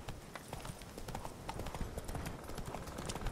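Horse hooves clip-clop quickly and evenly as a horse is ridden in the video game The Witcher 3: Wild Hunt, a faint, continuous rhythmic patter of hoofbeats with no voices.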